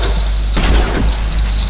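A single sharp gunshot in the video game Dead Space 2 cracks out over a steady low background hum, with a short rumbling tail.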